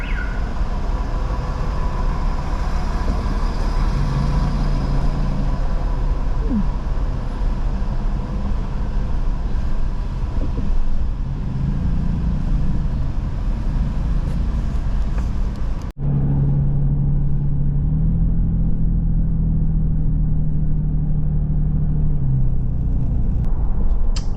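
Car towing a trailer driving through a small Baja town, a steady loud rumble of engine and road noise with a low engine drone rising and falling, no voices.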